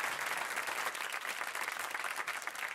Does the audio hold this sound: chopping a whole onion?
no